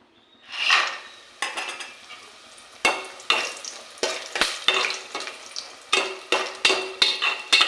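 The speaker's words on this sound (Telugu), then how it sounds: "ముందు ఈ వడియాలు వేయించుకుందామండి నూనెలో." Sun-dried vadiyalu frying in hot oil while a spoon scrapes and clatters against the pan, with sharp irregular metallic knocks over a continuous sizzle, close and fairly loud, with no talking.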